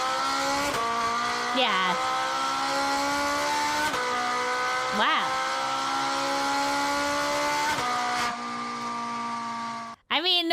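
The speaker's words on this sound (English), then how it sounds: "A flat pane V8, the Italian one." An Italian flat-plane V8 engine revs loudly and continuously with rising and falling pitch sweeps and short gear-change dips, like a race car, with a reacting voice speaking briefly over it near the end.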